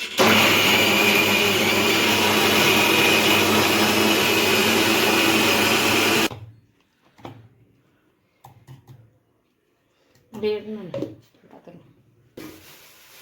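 A grinder runs loud and steady, crushing ingredients for a chicken biryani cooked outdoors over a wood-fired stove, then cuts off; quiet follows, broken by a few knocks and a short burst of talk.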